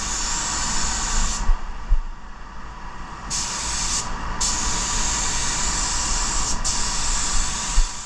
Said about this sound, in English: after 3 full wet coats of the high build primer surfacer